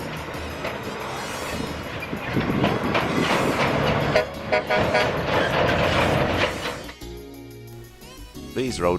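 A Pilbara freight train of well over 100 carriages passes close by with loud, rolling clatter and clanking of wagons, then the roar thins out near the end.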